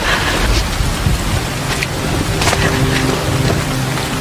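Heavy rain pours steadily at night in a horror film scene, a dense loud hiss with low thunder rumbling underneath throughout.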